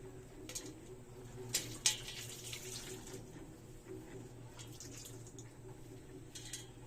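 A towel is soaked in hot water for a compress, giving faint splashing and trickling with a few brief sharper drips and sloshes against low background hum.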